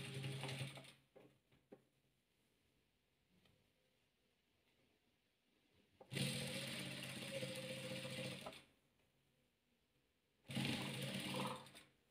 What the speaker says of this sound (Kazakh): Міне енді осыны біріктіріп тігіп аламыз.